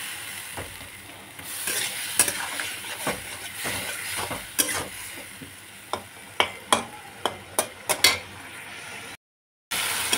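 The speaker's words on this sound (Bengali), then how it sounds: "এখন আমি ভালো করে কষিয়ে নেব।" A spatula scrapes and taps against a pan as spice paste with salt and a splash of water is sautéed for bata fish curry, soft sizzling under a run of sharp, irregular clinks that quicken toward the end before a brief silence.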